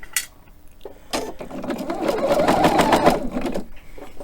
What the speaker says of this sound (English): I'm going to use a stiletto or my trusty seam ripper just to get in there and stitch it down.